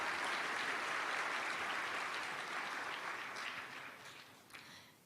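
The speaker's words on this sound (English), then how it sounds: "So huge round of applause for Secretary General Antonio Gutteres." An audience at the United Nations applauds, a faint, distant-sounding wash of clapping that stays even for a few seconds before tapering off at the end.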